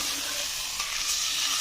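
Moussaka meat sauce sizzles in a hot pan while a wooden spatula stirs and scrapes through it, a constant hiss with soft scraping.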